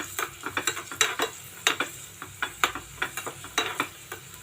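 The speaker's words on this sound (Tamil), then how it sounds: "அந்த நெய் சூடுலே தான், அந்த வானல் சூடுலே தான் வறுக்கிறேன் பாருங்கள்" Raisins fry in hot ghee in a pan after the stove is switched off, giving a close, quick run of small crackles and pops with a faint sizzle beneath them.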